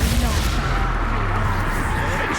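A blast from the Expulso spell in Hogwarts Legacy roars loud and close, a dense booming rumble lasting throughout, with voices faintly mixed in.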